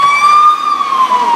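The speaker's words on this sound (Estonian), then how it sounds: "Sealt on lähenemas meie juurde. Tuleb kiirabi." Ambulance siren in a city street at night, a loud sustained wailing tone held close by and alone.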